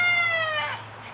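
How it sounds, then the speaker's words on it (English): A rooster's crow, loud and close, with bright harmonic tones that hold steady and then trail off toward the end. "okay, that's a rooster, he can go to a new home."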